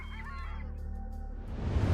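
Wild birds at Ulan Suhai Lake reserve honking like geese, a few calls over a steady low rumble that grows louder toward the end.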